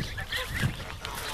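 Geese honking in a makeshift outdoor pen, a short burst of overlapping nasal honks close by.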